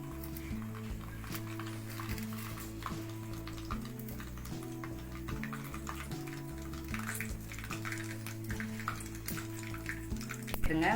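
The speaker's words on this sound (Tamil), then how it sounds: "கடுகு கொஞ்சம் பொரியட்டும்" Mustard seeds crackle and sizzle steadily in hot oil nearby, with scattered small pops throughout, while a low steady hum sits underneath.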